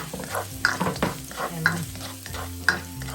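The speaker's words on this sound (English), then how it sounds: "I'm just frying this garlic." Garlic crackles and sizzles in a hot pan for Filipino caldereta stew while a utensil stirs, scraping and tapping rhythmically about once a second.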